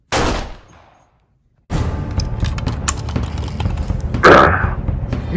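Cartoon gunfire from attacking evil robots, a sharp blast fading out, a brief silence, then a dense barrage of loud shots and crackling impacts.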